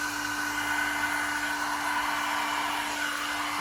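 A hair dryer blows steadily and continuously at close range, pushing poured paint across a canvas in a Dutch pour; the airflow is an unbroken broadband rush with a constant motor whine underneath.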